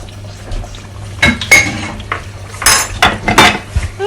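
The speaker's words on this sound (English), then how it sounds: "Now we're going to add in our minced meat." Minced lamb tipped into a cooking pot for keema rice with potatoes, heard as close clinks and scrapes of a utensil against the metal pot in several short bursts.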